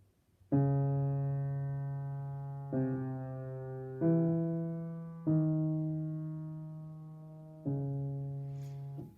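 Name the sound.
fugue theme played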